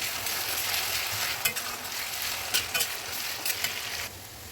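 Ginger garlic paste frying in a pan for a mustard rohu fish curry, a steady loud sizzle with a few stirring scrapes and clatters near the end.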